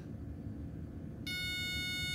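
Electronics on a WLtoys K989 RC car give a single long, steady high-pitched beep, loud and clean against a quiet hum, marking the steering trim as centered.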